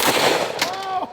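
A single close, loud report from a Smith & Wesson 686 .357 Magnum revolver firing a 125-grain hollow point at a small part on top of a transformer, a sharp blast that trails off into ringing tones and brief noise.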